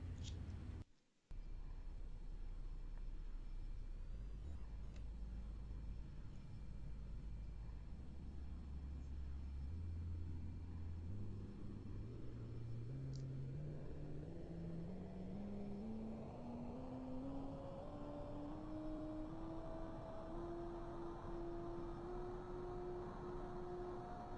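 A Tu-204 airliner engine starting up in a flight simulator game: a low rumble gradually rises into a steady, climbing turbine whine that grows louder and higher over about twenty seconds, with no talking.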